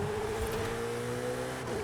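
A race car engine in the Forza video game drones steadily as the car brakes hard into a corner, its pitch holding a continuous mid-range tone throughout.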